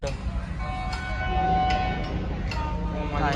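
A fast train rumbles loudly past close by at a level crossing, a steady roar with tonal horn-like notes, while people talk over the noise.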